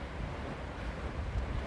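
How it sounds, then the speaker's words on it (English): Strong wind buffeting the microphone outdoors on a neighborhood walk, a continuous low rumbling roar with gusty swells and no talk. "It's really windy."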